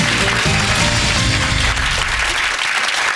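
Enthusiastic studio audience applause on a TV cooking show, dense clapping throughout with a low rumble and some faint voices beneath it.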